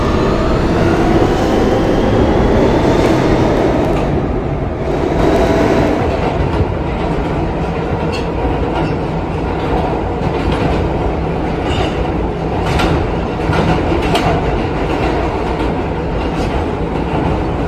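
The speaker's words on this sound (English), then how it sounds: "This is a Westpatop-bound Q Express train." An R160B Siemens Q express subway train in a Roblox game runs steadily and loudly with continuous wheel rumble and rhythmic clickety-clack, a constant close roar with no voices.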